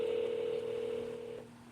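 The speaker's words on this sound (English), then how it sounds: "Let me call this missed number real fast" A phone calls back a missed number, and a steady electronic tone rings out on the line before cutting off partway through, clear and fairly close with no talking.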